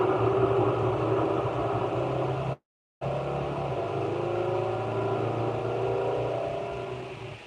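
Dodge Charger-based NASCAR homologation car engine idling with a steady, loud low rumble, broken by a brief gap of silence midway, no talk over it.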